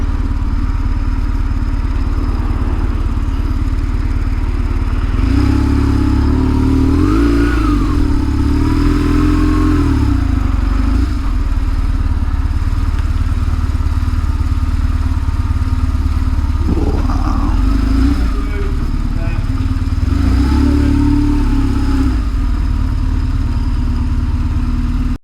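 A 23-year-old BMW GS motorcycle rides along an open road, its engine droning steadily and loudly throughout, rising in pitch with a few revs and gear changes, with rushing wind under it.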